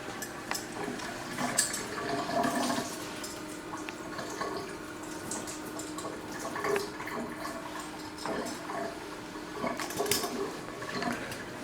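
Surgical instruments are rinsed under running tap water ahead of autoclaving, giving a steady splashing flow with occasional clinks of metal against the sink, close and moderately loud with no talking.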